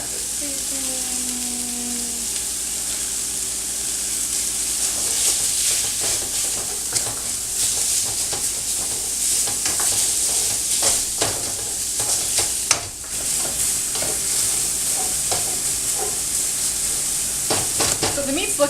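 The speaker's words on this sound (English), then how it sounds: "Break that up with the spoon." A spoon breaks up ground meat in a frying pan, steady sizzle with repeated scraping taps and clatter, close and fairly loud, no talk.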